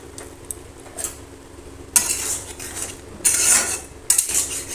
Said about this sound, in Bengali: এরপরে দুটোটাকে একটু নাড়াচাড়া করে দেবো।